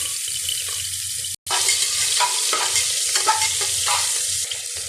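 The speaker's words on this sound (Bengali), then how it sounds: "তেল দিলাম পেঁয়াজ দিলাম" Onion frying in hot oil in a pan for a fish-head and bottle gourd curry, a steady loud sizzle with stirring scrapes, briefly cut off by a short gap, no talking.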